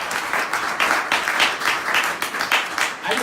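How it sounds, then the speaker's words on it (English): Audience at a reparations event bursts into applause, a dense wash of clapping hands filling the short stretch with uneven bursts, close and fairly loud. "Let's give a round of applause."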